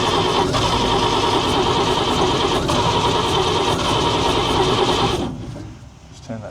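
The engine of a 1942 Chev 4WD truck cranks hard and steadily without firing. The loud, even churning of the starter lasts about five seconds and then cuts off.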